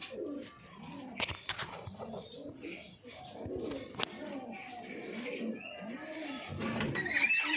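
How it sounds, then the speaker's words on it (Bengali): Several pigeons cooing in a loft, overlapping throaty coos repeating steadily at close range, with brief rustles and clicks and a person talking through much of it. "আমি এই ভিতর দিকে পায়রা রাখি।"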